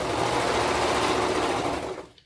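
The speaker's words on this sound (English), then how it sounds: "So match up the side pieces and sew it down." Close, continuous whirring of a sewing machine stitching the side seams of toddler bell bottoms, running steadily for about two seconds and then cutting off abruptly.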